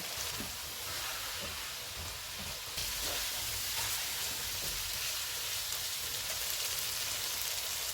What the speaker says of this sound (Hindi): इनको 4 से 5 मिनट तक भूनेंगे